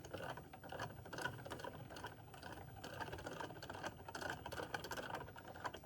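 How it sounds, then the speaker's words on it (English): A small yarn spinner winds embroidery yarn into a ball, making a quiet, continuous mechanical whir with light rhythmic ticking, faint and steady with no voices. "I've been using my favorite little yarn spinner to wind this into a ball of yarn."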